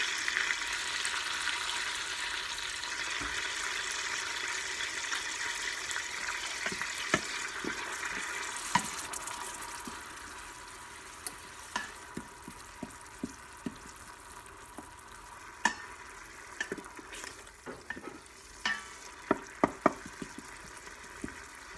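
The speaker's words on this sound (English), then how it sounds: "So I am going to let that saute a little bit." Onions and celery sautéing in olive oil for Instant Pot ground beef chili, a soft, faint sizzle with scattered light knocks and clicks of utensils, no talking.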